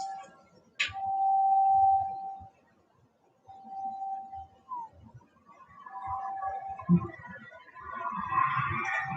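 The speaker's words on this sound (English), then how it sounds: "As the bell fades" A meditation bell rings once with a sustained tone that slowly fades, followed by further soft ringing and quiet room sounds during a Metta Bhavana meditation service.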